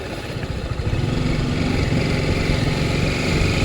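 A TVS Apache RTR 310 motorcycle ridden off-road gives a steady, close, throbbing engine drone that builds slightly and holds constant without any speech.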